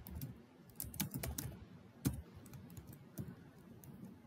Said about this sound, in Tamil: ஹலோ வேர்ல்ட் அப்படின்னு டைப் பண்ணுறேன்